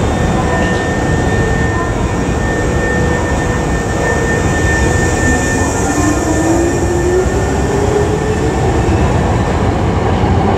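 Hankyu Kyoto Line local train pulling away from a station, heard from inside the car: a steady loud rumble of wheels and motor with a faint rising traction whine and a thin high tone throughout, no talk.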